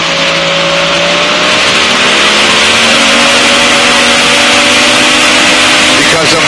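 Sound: light airplane engine run-up before takeoff

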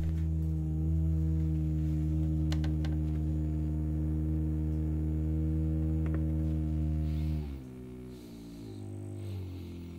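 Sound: small motor with mirror running on bench

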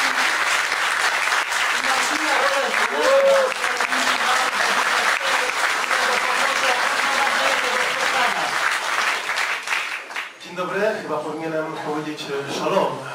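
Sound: audience applause at a book launch

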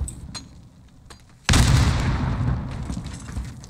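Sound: explosion in a video game

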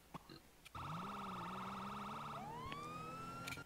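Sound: police siren in a video game

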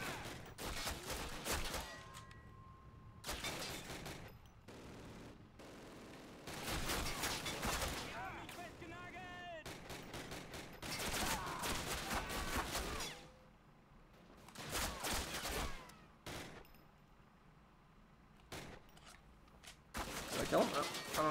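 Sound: gunfire in Call of Duty video game

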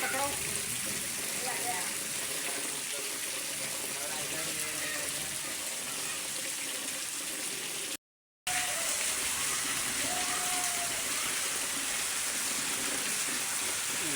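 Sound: first rain falling in Konkan

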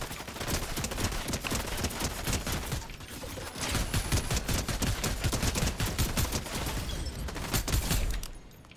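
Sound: turret firing in video game Fortnite

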